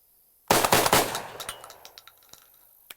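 A Browning A5 shotgun fires two 3.5-inch extended range shells outdoors: two sharp, loud blasts in quick succession, each trailing off into a long, fading echo rumbling across open ground.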